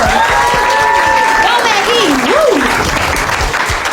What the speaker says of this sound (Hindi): मैगी के लिए ताली बजाओ पहले एक बार।